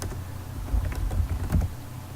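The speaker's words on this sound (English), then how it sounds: "then you can go ahead and type in your password" A password is typed on a computer keyboard during an Ubuntu install in VirtualBox: a short run of close, irregular key clicks over a low background hum, with no talking.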